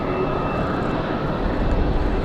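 Jet engines of a Frontier airliner spool up after pushback at Raleigh Durham airport, a steady rushing turbine roar with a faint high whine, heard alone and fairly close.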